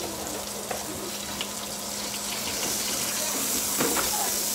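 A burger patty for a bacon cheeseburger fries in a pan with a continuous close sizzle that grows slightly louder, with a few faint clicks and taps.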